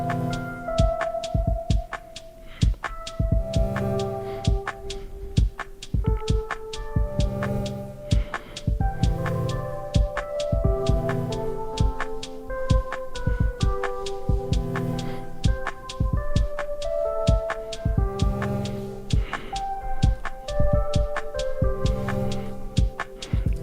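A synth patch played on an Ableton Move groovebox, with chorus and reverb, produces a steady stream of pulsing notes over a throbbing low bass. It continues for over twenty seconds with no voices.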